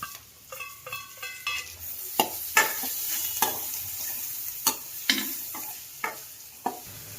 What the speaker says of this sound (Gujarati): કટિંગ કરેલા ડુંગળી, લસણ, આદુ, મરચાં નાખી દઈએ.